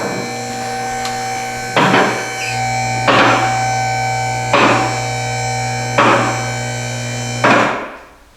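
A vehicle lift in a shop raises a Jeep with a solid Dana 30 front axle, a steady loud electric motor drone broken by five evenly spaced heavy clunks as the lift catches, before the motor winds down.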